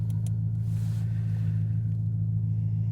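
Ferrari on a city drive, a steady low engine drone and road rumble heard from inside the cabin, even and continuous with no voices.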